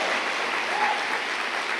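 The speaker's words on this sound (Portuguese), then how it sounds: "Uma salva de palmas à vida deles, né?" Church congregation applauding its pastors at a pastoral ordination service, a steady wash of clapping at even level throughout, with no voices standing out.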